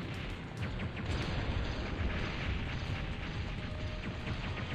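Bomb explosions in the PS1 game Silent Bomber, a dense, continuous barrage of booming blasts with sharp pops layered over a low rumble, loud and sustained.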